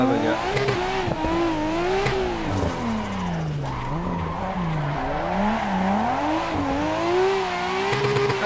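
A car drifting in the Assetto Corsa racing game, with a loud, continuous tire squeal that wavers in pitch through the slides over a droning engine.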